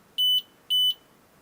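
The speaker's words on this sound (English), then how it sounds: "the machine will go beep beep a couple times, and it tells you, hey, it's loaded" An xTool air purifier beeps after connecting to its app, giving two identical clean electronic tones in a row, each lasting about a fifth of a second, clear and close against near-silence.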